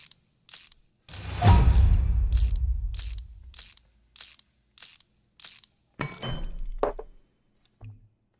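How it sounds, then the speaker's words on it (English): Building with a wrench in the game Abiotic Factor gives a run of rhythmic mechanical clanks and ratcheting taps, one longer grinding burst early and another near the end, with no talking. "Gotta build it with the wrench."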